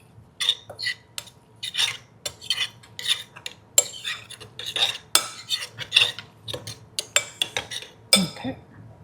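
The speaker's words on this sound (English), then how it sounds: "Mix that around." Spoon stirring muffin batter in a bowl, a steady series of clinks and scrapes against the bowl at an irregular, quick rhythm, close and clear with no talking.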